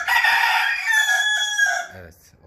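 A Leghorn rooster in a barn crows one long, loud, close call lasting about two seconds. A short rustle follows it, and no voices are heard.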